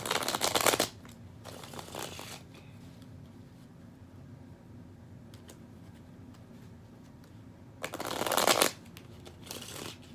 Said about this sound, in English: I promise I'm shuffling